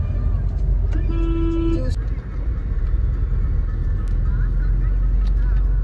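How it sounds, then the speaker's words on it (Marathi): Stuck in a traffic jam at Warje, a car horn sounds one sustained blast early on over a constant, close rumble of engines and road noise, with faint voices in the background. "आता इथं वारजेच्या ट्रॅफिक मध्ये येऊन अडकलोय आम्ही"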